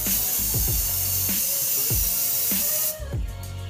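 Spray paint hissing onto a wooden dresser in steady, repeated bursts, close and loud, with short clicks between passes and a quieter tail at the end.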